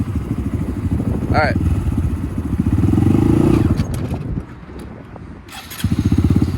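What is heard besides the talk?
Honda Grom motorcycle engine starting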